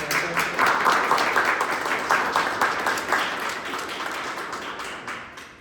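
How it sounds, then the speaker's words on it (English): A crowd applauds with sustained, dense clapping that gradually fades toward the end; no one speaks over it. "So if we could just take a huge round of applause for all the people at the"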